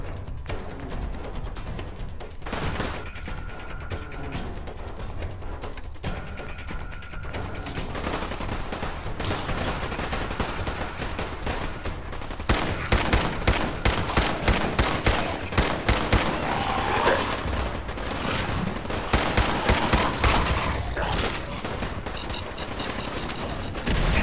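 Pipe pistol and other gunfire in the Fallout 4 video game, volleys of sharp shots in quick bursts, sparse at first and then dense and loud, with no talking.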